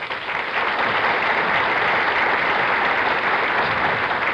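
A studio audience on a bowling game show applauds loudly and steadily, a dense continuous wash of clapping that fills the whole stretch without any talk.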